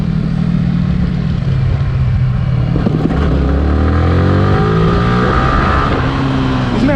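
A Yamaha R15 V3 motorcycle rides along with steady, loud engine and road noise, and its pitch sweeps rising and falling as it accelerates midway.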